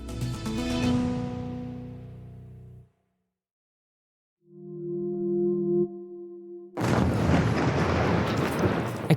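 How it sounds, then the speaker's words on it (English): Explosions during an overnight Russian drone and missile attack on Kyiv. After a short musical sting, a sudden loud broadband blast rumbles on for a couple of seconds with no talking. "Explosions in Kyiv, where an overnight Russian attack set fire to Ukraine's main government building"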